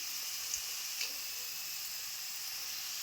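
Fresh green chickpeas roast in a pan, giving a steady, soft broadband sizzle with a couple of faint clicks, alone with no talk.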